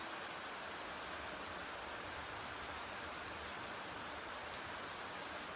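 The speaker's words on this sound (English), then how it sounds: "The real problem here is this rain." Heavy rain in the video game Black Book pours down as a dense, constant hiss, loud and unbroken throughout with no voices.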